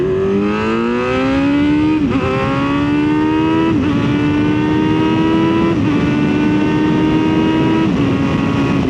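A Kawasaki Z900 motorcycle engine accelerates hard toward highway speed, its loud close whine climbing steadily through four gear shifts with brief dips between pulls.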